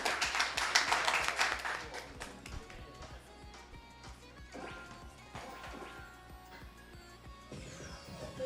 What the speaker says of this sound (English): Okay, big applause to the both competitors